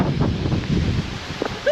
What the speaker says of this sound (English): Extreme wind!